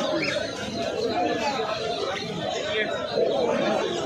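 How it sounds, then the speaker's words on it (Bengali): Budgerigars at a bird market chirp and chatter in a busy, continuous twitter, mixed with cooing from pigeons and murmured human voices close by. "এখানে সব বদ্রি পাখি রয়েছে, বাজিগর পাখি।"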